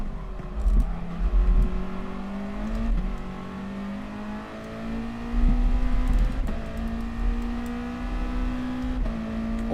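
Race car engine in the racing game GT Sport, droning steadily and climbing in pitch through the gears, with sharp shift breaks and revving as the car accelerates.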